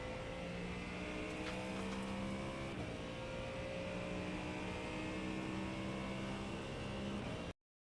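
A Ford Mustang GT3 in the iRacing sim at Watkins Glen pulls hard out of a corner, its engine note droning and climbing steadily, loud and close, with no talk over it.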